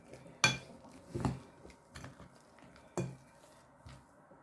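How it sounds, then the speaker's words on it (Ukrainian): A spoon scrapes and knocks against a bowl while mixing grated potato for potato pancakes, made without egg or flour; a few sharp clacks and softer scraping strokes come in irregular bursts, close and fairly quiet. "Отак перемішаю зараз гарненько"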